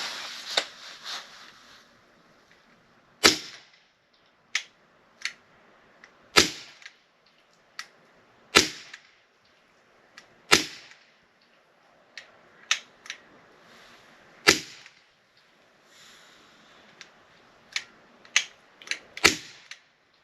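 An AEA HP SS .22 semi-automatic PCP air rifle shoots Falcon pellets in a string of sharp, close cracks, some spaced seconds apart and others in quick bursts, with quiet gaps between and no talking.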